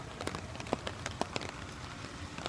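Rain on a wet day, heard from beneath an umbrella outdoors, gives a soft steady patter with a few sharper drops tapping close by, fairly faint and with no talking.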